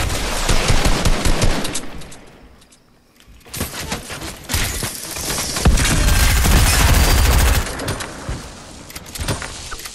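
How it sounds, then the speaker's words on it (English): Rapid automatic gunfire in the Fortnite video game, loud sustained bursts of shots that cut out briefly into a quieter gap before resuming heavily, with more bursts near the end. "His teammate shooting at me."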